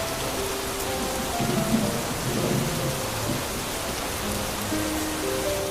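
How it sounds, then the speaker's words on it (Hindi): Heavy rain pours steadily while thunder rumbles low underneath, a constant wash of downpour with no voices. "रमेश बिना जवाब दिए तेज बारिश में घर की तरफ चलने लगता है।"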